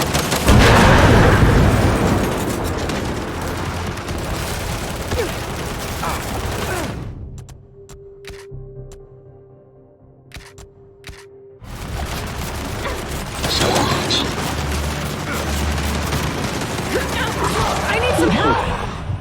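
Sustained turret gunfire in Gears 5, dense and loud, with a lull of a few seconds midway before the barrage resumes, mixed with other battle noise.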